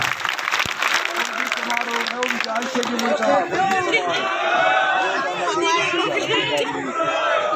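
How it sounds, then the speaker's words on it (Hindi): A crowd in an Indian village gathering applauds to welcome a 93-year-old elder, steady clapping mixed with loud chatter and voices throughout, a dense continuous wash of sound. "जोरदार तालियों से एक बार ताऊ जी का स्वागत करें, जोरदार तालियों से।"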